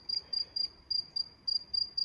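A cricket chirping at night outdoors in Spain, steady pulsed trills repeating in regular bursts, fairly faint and close, alone with no voices.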